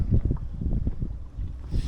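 Steady gusting wind buffets the microphone over a choppy lake, with low rumbling and irregular splashy surges of waves throughout, fairly close and moderately loud.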